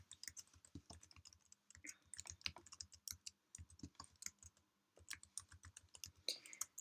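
Computer keyboard typing into a spreadsheet, close and fairly quiet, with rapid irregular key clicks in bursts and brief pauses, no voices.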